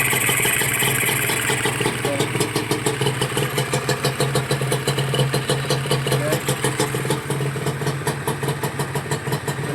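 A Honda NSR150R motorcycle engine, overhauled, idles in neutral on a test run, a steady close, loud two-stroke putter with a fast even pulse throughout and no talk.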